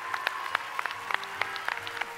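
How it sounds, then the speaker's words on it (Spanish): Studio audience applauds TV host Adal Ramones on the stage of a Mexican television singing-competition show, a steady mass of clapping with sharper individual claps standing out throughout. "El aplauso para Adal Ramones."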